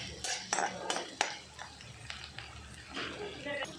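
Onion and green chili with cumin being stirred in a pan, a utensil scraping and knocking against the metal in uneven strokes, with faint frying beneath and a voice talking intermittently.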